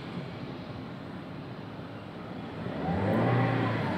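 A manual car's engine hums steadily, then swells louder in the last second as it revs, a low rumbling roar up close.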